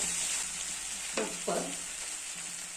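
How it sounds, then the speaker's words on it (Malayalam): Cooked tapioca is mashed with butter in a pan: a soft sizzle runs throughout, with two short scraping, squishing strokes of the utensil partway through, quiet and close. "ഒരു 5 മിനിറ്റ് ഈ ബട്ടറും കപ്പയും കൂടെ നന്നായിട്ടൊന്ന് സ്മാഷ് ചെയ്ത്"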